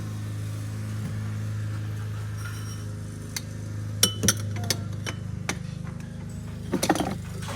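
Pint glasses being handled for making bubble tea, a handful of sharp clinks and knocks in quick succession over a low steady hum, fairly quiet and close.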